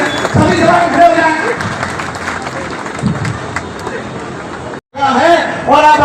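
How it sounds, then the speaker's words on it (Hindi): Loud, dense applause fills a ceremony hall as a standing audience claps for a former Union minister, with crowd noise and voices mixed throughout; the clapping drops out briefly near the end before talk resumes. "सभी के लिए एक बार जोरदार तालियां खड़े होकर बजाएं"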